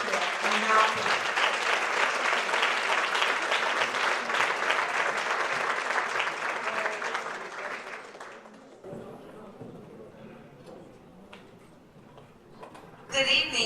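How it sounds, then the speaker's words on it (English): Sustained audience applause at an awards ceremony fills the room loudly for about eight seconds, then fades into quieter murmuring before a brief burst returns at the end. "I'd like for you to give a round of applause to Candace Hart, our former Torchette"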